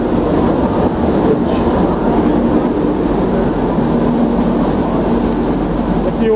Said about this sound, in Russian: Такие вот вагончики метро в Мадриде.